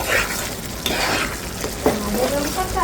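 A spoon scrapes and stirs goat brain bhuna in a pan over low heat, soft sizzling under a few close scraping strokes.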